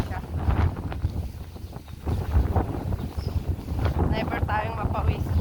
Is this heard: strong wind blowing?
yes